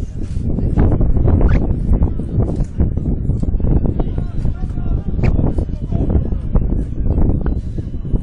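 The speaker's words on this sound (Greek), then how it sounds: "Πολύ δυνατός ο αέρας" Strong wind buffets the microphone in a steady, heavy roar with gusty low rumbling at an amateur football cup semi-final in Imathia, Greece, and a voice is faintly present underneath.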